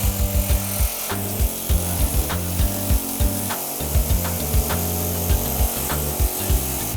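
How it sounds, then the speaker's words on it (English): An air hammer fitted with a metal tip cuts apart the body of a Charger car. The loud, close hammering comes in short rhythmic bursts with brief pauses, and there is no talking. "He's using an air hammer with the metal tip."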